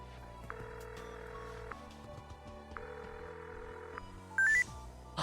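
A phone placing a call in the Buried Stars video game: short electronic tones and dialing beeps, then a pulsing ring tone repeating in even bursts over low background music, ending with a brief high chirp.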